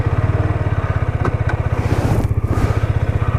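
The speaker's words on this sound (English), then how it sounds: "This is a KTM RC 125" A KTM RC 125 motorcycle engine runs close by in a rapid, steady, pulsing idle, loud throughout, with a brief rise in revs near the middle.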